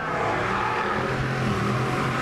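Drag racing cars at a beach strip in Bunbury, a Holden Commodore and a Holden Torana with a 5-litre fuel-injected engine, rev loudly and steadily, a constant engine roar with no talk.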